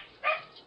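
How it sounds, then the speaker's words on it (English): A dog barks once during a Persona 3 playthrough, a single short, fairly faint yelp-like bark in an otherwise quiet moment. "Then my dog started barking."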